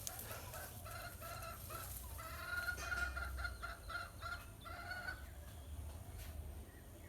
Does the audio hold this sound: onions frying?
no